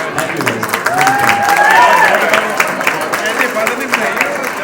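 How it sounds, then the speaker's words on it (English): A crowd at an anniversary party applauds steadily for several seconds, with scattered cheers and a whistle rising above the clapping. "big round of applause for Harman Baweja."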